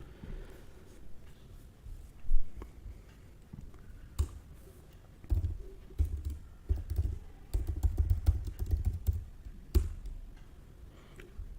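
Computer keyboard typing while code is written, soft irregular clicks and tapping keystrokes in quick bursts, faint and close, growing denser toward the end.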